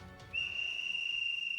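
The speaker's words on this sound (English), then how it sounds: "Then from afar, there was the sound of whistles." A single sustained, shrill whistle sound effect in the video game Hakuoki, meant to come from far away, holding a steady pitch for over a second after a short faint lead-in.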